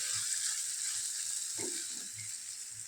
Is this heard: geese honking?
no